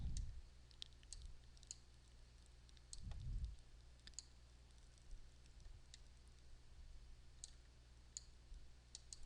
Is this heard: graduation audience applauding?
no